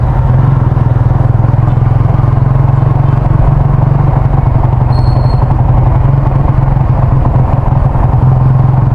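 A Yamaha Sniper 150 fitted with a 140cc six-hole MTRT injector idles at low RPM, a loud, close, even engine rumble and clatter that holds steady throughout, with no voices.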